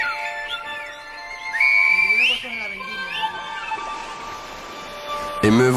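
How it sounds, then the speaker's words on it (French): Silbo Gomero, the whistled language of the Canary Islands, comes through as sliding, shifting whistled tones with rising and falling pitch glides, fairly loud and close, broken by a sharp noise near the end. "C'est le Silbo Gomero."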